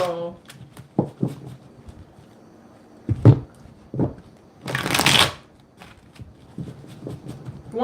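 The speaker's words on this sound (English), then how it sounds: "One more shuffle." Playing cards shuffled during a tarot-style reading: a dense burst of riffling around the middle, with soft card handling and light speech before and after.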